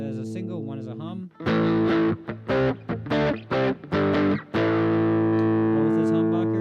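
Epiphone SG Pro 400 electric guitar with one pickup coil split to single-coil and the other left as a humbucker, played through distortion: a sustained chord, then a run of choppy staccato strums, then a long ringing chord, loud and alone.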